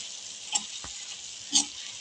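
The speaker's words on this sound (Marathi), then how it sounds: "आता एकदा खालीवर करून चांगला परतून घ्यायचा" A steady, quiet sizzle of broad bean pods stir-frying in a pan, with two soft scraping stirs and a faint clink.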